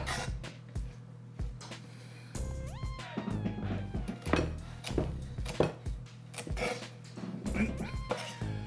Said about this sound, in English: I'm gonna finish chopping this up because I have another stalk of celery that I'll do